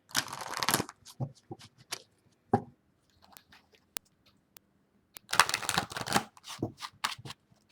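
Oracle cards being shuffled by hand during a reading, quick riffling and papery bursts at the start and again later, with quiet pauses between, close and fairly soft.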